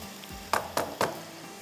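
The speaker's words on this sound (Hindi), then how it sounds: "इस तरह से इसको अच्छी तरह से फ्राई होने दीजिएगा, मिर्चों के साथ अच्छे से फ्राई होने दें" Chicken fries with chillies in a pan for a chicken kalonji recipe, a steady close sizzle broken by three quick scraping stirs in a row, with no talking.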